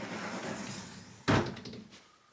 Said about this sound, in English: And I'm gonna shut my closet door.